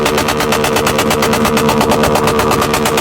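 Motorcycle engine at a motor show, running with a fast, steady pulsing throb that stays loud and close for the whole stretch, with no voices over it.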